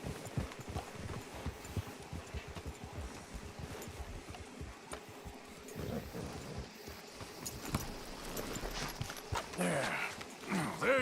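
Steady clip-clop of horse hooves in Red Dead Redemption 2 plods along under ambient noise, with a few muffled voices and rustling mixed in.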